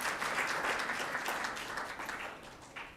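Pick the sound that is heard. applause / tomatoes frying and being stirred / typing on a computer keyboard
applause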